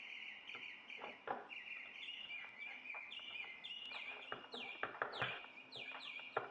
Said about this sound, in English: Listen to some birds.